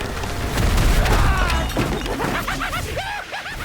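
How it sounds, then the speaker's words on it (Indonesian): Heavy smashing crashes and booms as a body is hurled around a building and slams into a wall, a loud, dense burst of impacts followed by debris and scraping noise. "Chu menggunakannya untuk melempar Wang mengitari gedung dan menabrak dinding"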